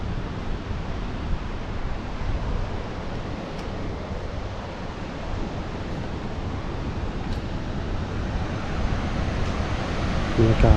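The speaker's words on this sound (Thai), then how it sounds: "น้ำตกคอนพระเพลงครับตอนนี้" Rushing water at the Khone Phapheng waterfall in southern Laos, a continuous broadband roar that holds steady and close throughout, swelling slightly near the end.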